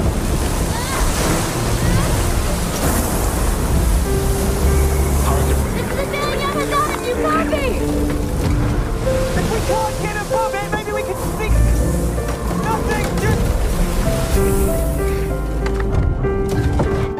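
Stormy sea waves in the film Adrift, with a sailing boat caught in a storm: a continuous roar of surf and wind, blended with dramatic film music and voices.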